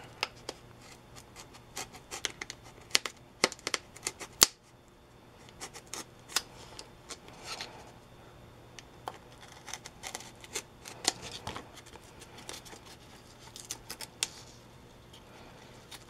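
A hand knife trims material while fitting a MrRCSound unit into a 980mm P-40 model plane, giving faint, scattered scraping and cutting ticks with brief sharper snaps in a quiet room.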